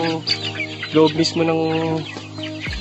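Broiler chickens clucking in their pen on a free-range farm, a close run of overlapping clucks and short calls filling nearly three seconds.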